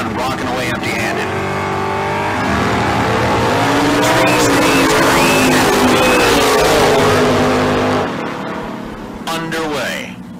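Dragsters at Tucson Dragway roar loudly with a sustained engine rumble and rising revs, fading toward the end, while an announcer talks over the noise.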